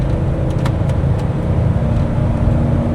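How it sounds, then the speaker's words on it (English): A 1995 Ford F150 Eddie Bauer 4x4 pickup with a 5.0 V8 accelerates steadily under heavier throttle, a continuous close engine drone and road rumble heard from inside the cab. "A little heavier acceleration here."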